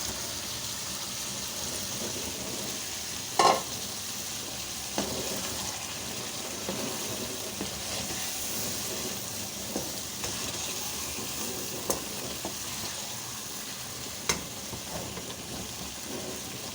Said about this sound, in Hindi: हम चिकन डाल देते हैं वापस।